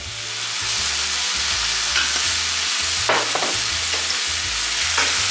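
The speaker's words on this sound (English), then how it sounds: "Now I'm gonna scrape the bottom of my pan." A spatula scrapes the bottom of a pan of rajas con crema, strips of pepper frying with a steady loud sizzle while repeated scraping strokes rasp across the metal, with a low rhythmic hum running underneath.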